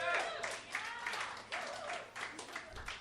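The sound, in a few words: audience applause at comedy show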